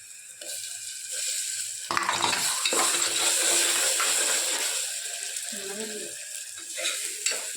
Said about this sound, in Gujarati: પછી થોડાક હવે ટમેટા એડ કરી દઈએ